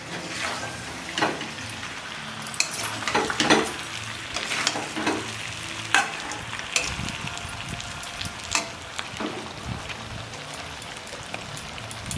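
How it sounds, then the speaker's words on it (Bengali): Mutton being sautéed with spices in a covered pan, a close, steady sizzle and crackle with scattered louder pops and scrapes throughout, no voices. "ভালোভাবে মিট মশলা দিয়ে কষিয়ে নিয়েছি"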